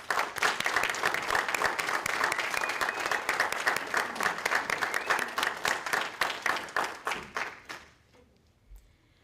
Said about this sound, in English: Please join me in giving our presenters another round of applause.